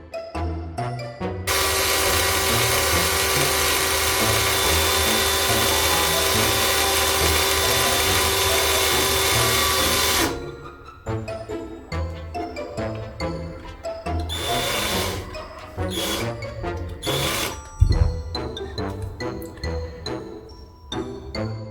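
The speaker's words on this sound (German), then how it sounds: "Setzt man den Bohrer mittig an der Seite des Steins an" A power drill bores a hole into a LEGO brick, whining loudly and steadily for several seconds. After it stops, close, irregular clicks and clatters of handling the small plastic parts follow, with a sharp knock near the end.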